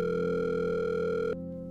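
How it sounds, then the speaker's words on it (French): A telephone dial tone plays as a steady, loud, continuous buzzing hum while a call is placed, then cuts off abruptly, leaving a quieter residual hum. "Je sors mon téléphone et je passe un coup de fil à ma daronne."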